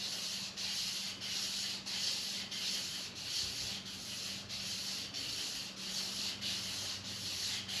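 Hand polishing of a crankshaft from a '57 Chevrolet Bel Air restomod, a rhythmic rubbing and sanding scrape repeating about every half second in even strokes, close and fairly quiet, with no voices.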